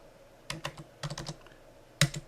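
A computer keyboard is typed on in a few short, soft bursts of key clicks, close and quiet, with a sharper final keystroke.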